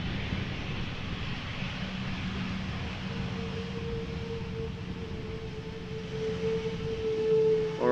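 An ITA Airways airliner passes at Amsterdam Schiphol Airport, making a steady broadband roar that holds for several seconds, with a thin engine whine rising and swelling near the end.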